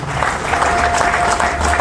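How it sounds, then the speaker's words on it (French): An audience at a political press briefing in the DRC gives a short burst of close, steady applause that fills the whole moment. "nous pouvons applaudir notre président pour cette vision éclairée"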